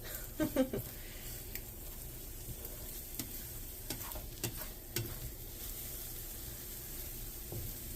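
Eggs cook in butter in a pan, a soft, faint sizzle broken by scattered scraping and stirring taps, with a few louder knocks early on.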